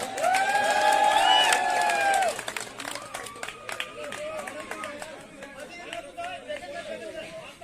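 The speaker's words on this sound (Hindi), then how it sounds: "सागर और मानव के लिए जोरदार तालियां।" A crowd at a New Year party at an academy cheers and shouts loudly for a couple of seconds. Scattered claps and lively chatter follow and carry on underneath.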